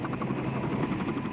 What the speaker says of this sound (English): helicopters were landing and taking off from inside the grounds